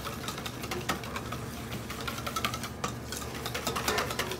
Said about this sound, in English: all you're gonna do is get a whisk, stir it together